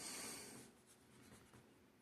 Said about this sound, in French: On gomme les lignes.